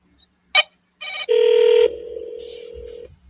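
On an outgoing call, a telephone rings back in the earpiece. A click is followed by a short burst of tones, then a long steady ring tone and a quieter continuing hum.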